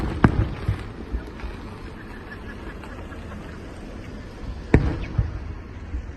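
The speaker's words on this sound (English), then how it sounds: "Today watching the fireworks." Fourth of July fireworks burst as a few distant booms, two sharp explosions early on and another cluster near the end, with quieter crackling in between.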